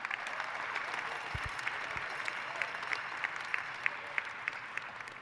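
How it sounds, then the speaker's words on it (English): Audience applauding at a university dental medicine postdoctoral graduation ceremony, a steady sustained patter of many hands clapping in a large hall, moderately distant and even throughout. "A round of applause for those of you who have supported our graduate students over the years."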